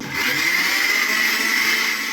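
A mixer grinder blending a paste whirs loudly and steadily, a dense high-pitched motor roar that holds constant throughout.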